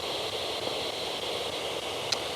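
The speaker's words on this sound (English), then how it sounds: "the white noise is messing with me" Constant hissing static fills the stretch at an even level, with one faint brief tick near the end; no voices.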